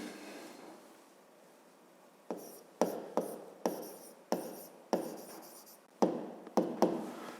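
Pen strokes on paper as a fifth-grade maths exercise is written out: a quiet pause, then a close run of about nine short scratchy strokes in an uneven rhythm, with no talking.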